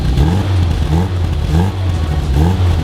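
A car engine revs in a series of roughly four rising, falling throttle blips, each harmonic climbing and dropping every half second or so, loud and close over a steady idle, with no talking.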